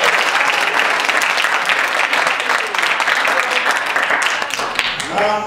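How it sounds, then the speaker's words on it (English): A live improv theater audience breaks into sustained, loud applause for two young performers, dense clapping filling the whole stretch with some crowd voices mixed in. "Let's give them a round of applause."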